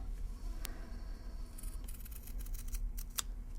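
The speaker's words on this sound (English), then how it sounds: "I'm going to take my scissors and cut that at an angle" Scissors cut twill tape at an angle for tracheostomy care, giving a few faint, sharp snips and clicks spread over a quiet, low room hum.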